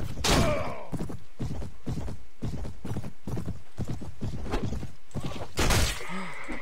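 Horse hooves gallop in the video game Mount & Blade: Warband Viking Conquest, a close, rapid and steady clip-clop with a couple of sharper impact bursts at the start and near the end.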